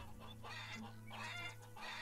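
A white chicken in Farmer's Dynasty clucks in a few short bursts, fairly close and moderately loud over a low steady hum, with no talk.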